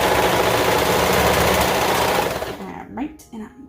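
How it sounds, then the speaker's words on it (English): A serger stitching a seam on a t-shirt fabric, a loud fast steady mechanical whir that runs then stops, followed by brief rustling. "I'm gonna go ahead and serge"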